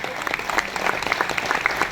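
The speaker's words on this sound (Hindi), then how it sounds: "तालियां रुकनी नहीं चाहिए" Steady applause from an audience, many hands clapping continuously at a moderate level without pause.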